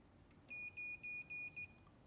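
A smoke detector gives a series of five sharp, high-pitched electronic beeps in quick succession, loud and clear against quiet background hiss.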